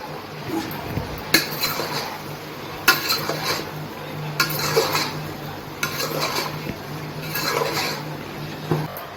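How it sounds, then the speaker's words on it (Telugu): Cucumber, okra and green chillies being stirred in a pot for sambar, a spoon scraping and knocking against the metal in irregular strokes every second or two, close and moderately loud, with no voices. "వేసి బాగా కలుపుకుందాము."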